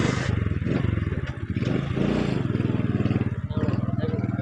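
A motorcycle's engine chugs and idles steadily at close range as it is loaded onto a river boat, with clattering and scraping mixed in and voices talking over it.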